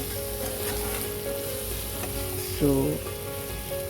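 Chicken fries in a pan for a Bengali chicken kosha with a steady close sizzle and crackle, and a brief clink of a utensil partway through.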